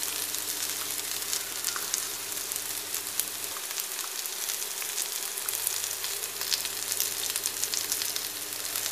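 Minced meat for hachis parmentier fries in a pan with a dense, continuous close sizzle and crackle under a low steady hum that briefly stops mid-clip; nobody speaks.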